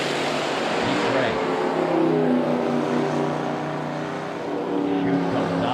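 A Terminator GT500 drag race car makes a loud, sustained engine roar at a drag strip, a continuous high-revving drone that dips slightly and then surges, while a commentator talks over it.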